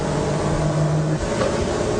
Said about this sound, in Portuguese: the motor will start running